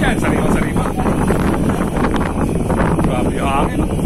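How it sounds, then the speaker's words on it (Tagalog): Strong wind buffets the microphone outdoors during a tilapia fishing and cooking trip by a hut in the Philippines, a dense, loud, continuous rumble with people talking underneath. "Grabe yung hangin."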